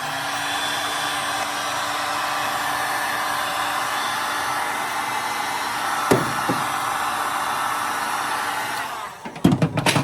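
A heat gun blows a steady, loud rush of hot air while a VW Beetle gas tank and fuel fittings are installed; it runs nearly continuously, with a couple of clunks midway and sharp knocks as it cuts off near the end.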